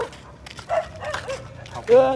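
Several dogs bark and yip at night along a road, a mix of sharp barks and a higher whine, heard under ongoing talk.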